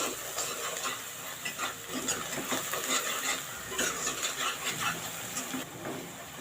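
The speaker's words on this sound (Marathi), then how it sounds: "इथे एक चमचा मी गरम मसाला घालत आहे मिक्स करून घेऊया" Spices being stirred into frying pav bhaji in a large pan, a steady sizzle with a continuous scraping of the spoon and no speech.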